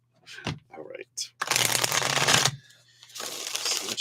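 Tarot cards are shuffled during a live reading, with a few light riffles and then two long, loud bursts of card shuffling close to the microphone, joined by a brief voice at the start.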